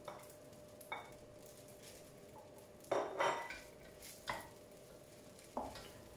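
Rice with pickled mustard tuber stir-fried in a pan at home: a few sharp spatula scrapes and clanks against the pan come at irregular intervals over a faint steady hum, with no talking.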